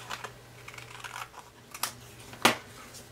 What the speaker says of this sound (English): I'm going to take my scissors and I'm going to start with 1 and I'm just going to cut right along that edge.